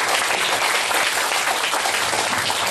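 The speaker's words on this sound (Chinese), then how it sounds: "那就请大家以最热烈的掌声欢迎我们陈昆龙" An audience at a children's hands-on science event gives loud, sustained applause to welcome a guest professor, a dense and steady wash of many clapping hands filling the room without pause.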